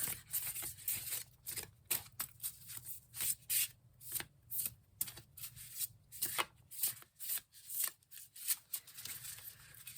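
A Pearls of Wisdom oracle card deck is shuffled by hand, giving quick papery riffles and slides in an uneven rhythm, close but soft, with no talking.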